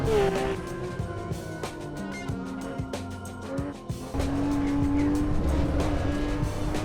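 A Porsche driven hard around a race track, its engine rising and falling through gear changes with tire squeal on corners, loud and close from inside the car throughout, the driver using left-foot braking.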